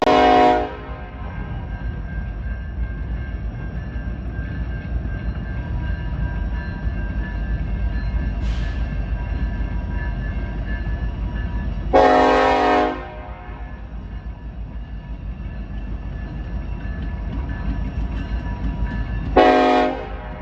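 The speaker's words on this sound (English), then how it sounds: "It's not a stack train, it's a coal train." A Norfolk Southern coal train rolls through Princeton, Indiana with a continuous heavy rumble of wheels and cars, while its loud horn sounds once at the start and twice more in short bursts toward the end.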